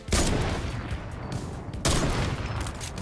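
Loud, close bursts of rapid gunfire in Fortnite, two heavy volleys with a brief lull between them.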